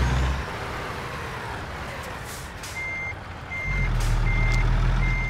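Repeated reversing beeps from a Peterbilt truck in a driving simulator, steady evenly spaced tones over a loud low diesel rumble that swells as the rig backs up.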